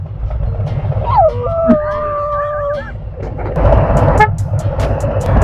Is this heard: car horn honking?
yes